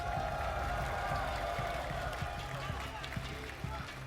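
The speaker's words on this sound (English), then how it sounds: "Just listen to the crowd here." A large esports arena crowd at a CS:GO grand final cheers and claps, a broad distant roar with scattered claps and thumps, while a commentator talks over it.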